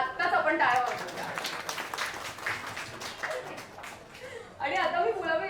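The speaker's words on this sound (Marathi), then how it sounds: "कावेरीसाठी आत्ताच आपण टाळ्या वाजवूया" A book launch audience claps for Kaveri, a brief, moderate round of applause in a hall, with a voice speaking before and after it.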